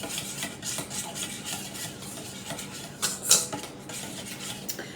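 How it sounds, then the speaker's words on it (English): A spoon stirs breakfast casserole ingredients with paprika in a pan, soft scraping and rubbing strokes at low level with a brief louder clink near the end. "Give that a stir."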